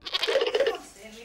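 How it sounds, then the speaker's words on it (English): A pet goat with lumps on its ears gives one short bleat, close and loud, at a veterinary practice. "he's a pet goat, and he's suffering from some strange lumps on his ears"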